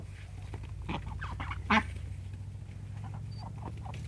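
A Jack Russell terrier mingling with ducks at their feed, with nearby quacks and short animal calls scattered over a steady low hum, one louder call standing out midway.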